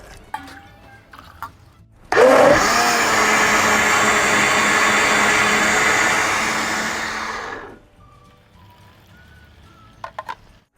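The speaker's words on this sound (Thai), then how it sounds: "เดี๋ยวผมจะนำกากเนี่ยนำไปปั่นกับน้ำเปล่าอีกรอบครับ" A blender whirs loudly for about six seconds, blending leftover soybean pulp with plain water, starting abruptly and winding down at the end, with faint clinks before and after.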